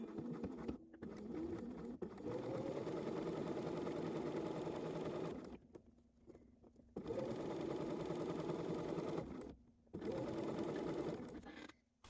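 Sewing machine stitching the fly facing onto a pair of pants: several long, steady runs of close motor hum and needle chatter with short pauses between them, and no talk.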